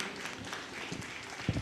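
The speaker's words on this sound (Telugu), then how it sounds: "గట్టిగా క్లాప్స్ కొడదాం దేవునికి." A crowd at a large Christmas celebration in Greater Warangal claps for God, a short burst of moderately loud, dense applause with no speech.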